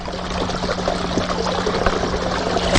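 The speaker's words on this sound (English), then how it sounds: "That way we get some water coming over the side there." Water trickles steadily over rocks from a small dam in a patio pond, a soft continuous pour heard up close without talk.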